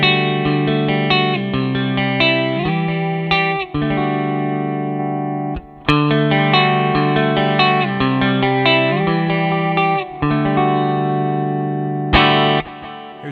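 Distorted electric guitar played through a Line 6 Helix with a midrange EQ boost at 1K switched off and on: sustained chords and riffs with brief gaps, loud and steady, with reverb and chorus-like shimmer.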